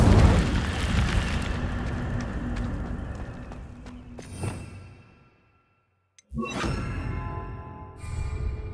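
Incendio fire spell cast in Hogwarts Legacy, a loud roaring burst of flame that swells and fades, then near-silence before another sudden whooshing eruption and a trailing ring.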